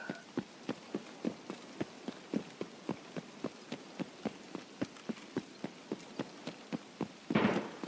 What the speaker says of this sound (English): Plus the rain now?